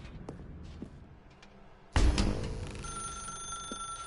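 Telephone in The Stanley Parable bursts into loud ringing partway through after a quiet stretch, the bright electronic ring sustained to the end.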